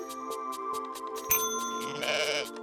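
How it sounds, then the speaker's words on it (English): Sheep bleat repeatedly in the video game Welcome, Dear Human, a steady run of short, rhythmic bleats over a sustained musical drone, with a brief sharp burst partway through and a busier, louder stretch near the end. "Oh, we have to count sheep again."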